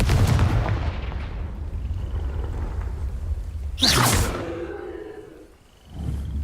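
A Confringo blast spell in Hogwarts Legacy: a sharp whooshing burst near the middle, fading into a rumbling tail, with heavy low rumble and another smaller burst near the end.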